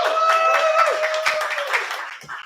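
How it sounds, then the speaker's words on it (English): Audience applause at an open mic night in a cafe, a short spell of clapping mixed with a sustained whistle-like tone and some cheering, fading out near the end. "give them a round of applause"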